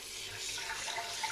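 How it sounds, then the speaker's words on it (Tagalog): Tap water runs steadily into a sink as glutinous rice is rinsed, a soft continuous hiss and splash, faint and brief. "Hugasan ko na yung ating malagkit"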